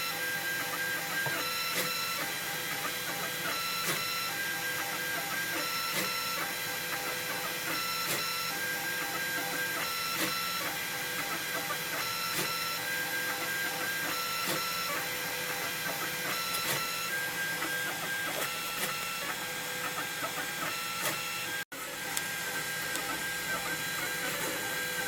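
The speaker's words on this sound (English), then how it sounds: "So it's almost done printing." A Printrbot Play (Model 1505) 3D printer hums and whirs steadily nearby, its motors ticking in a regular repeating pattern, with one brief dropout near the end.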